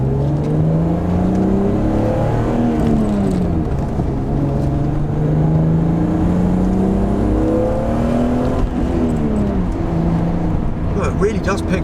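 A BMW Z3M Coupe accelerates hard on a road, its engine note climbing steadily through the revs with brief dips at gear changes, loud and continuous from close by.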